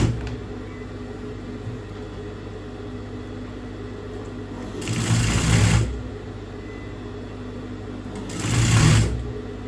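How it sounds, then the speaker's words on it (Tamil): Sewing machine running a line of stitches over folded fabric for invisible piping, heard as two short, close motor bursts with a lull between them and no talking. "அந்த அளவுக்கு இதை மடித்து இதுக்கு மேலே ஒரு தையல் நம்ம போடணும்"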